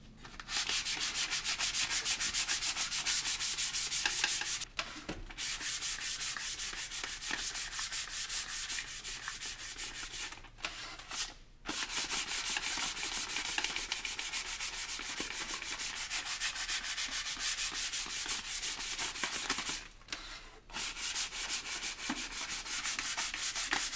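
Sandpaper of 220 grit rubs primer off a rocket airframe in long, steady strokes. The scraping runs close and continuous, with three brief pauses along the way.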